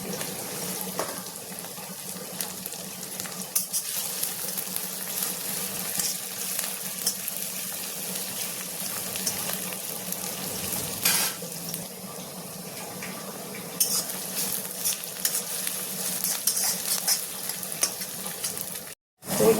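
Chopped onion frying in hot oil in a wok for aloo chop, a continuous loud hiss and crackle like rushing water, lasting throughout with only brief dips before a sudden cut near the end.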